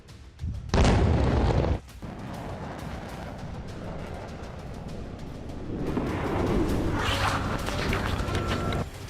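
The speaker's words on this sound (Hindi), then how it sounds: "यूक्रेन पर रूस मिसाइल दाग रहा है।" A missile explodes in a Russian strike on Ukraine, giving a sharp loud boom followed by a long rumbling roar and echoing noise from a distance.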